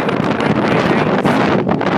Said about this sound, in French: Le vent est environ de 70 à 80 km/h.